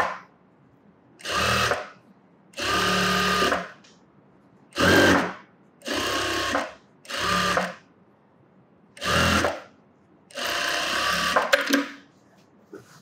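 A sewing machine stitches seams on a sleeveless top in bursts, seven loud whirring runs of one to two seconds each separated by quiet pauses.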